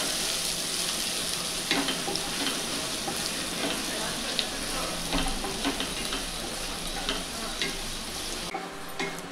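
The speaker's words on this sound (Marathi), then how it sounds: "आणि एकदम बारीक चिरलेला कांदा आहे तो घालते" Finely chopped onion frying and being stirred in a pan for dhaba-style masala bhindi, a loud steady sizzle with scraping stirs throughout, briefly dropping near the end.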